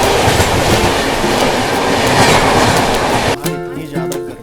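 Shramjeevi Express passenger train running on rails, a loud, close roar of wheels and carriages with steady clatter that suddenly drops into quieter rattling and tonal squeal near the end.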